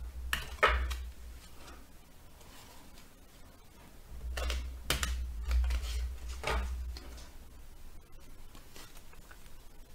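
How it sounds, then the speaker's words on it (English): Tarot cards are shuffled in crisp, riffling bursts close by, with short flicking sounds, a quiet stretch, then more rapid shuffling. "we shuffle first the cards."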